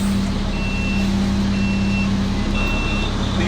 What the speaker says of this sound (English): The alarm that's going off is actually an alarm for the seat belts before the truck can move.